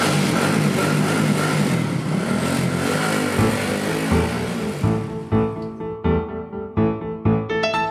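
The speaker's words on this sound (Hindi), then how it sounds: "ये जो बाइक है मेरा" A motorcycle used as a makeshift ambulance runs in a steady roar up close, then revs in a series of short repeated throttle blips that rise and drop.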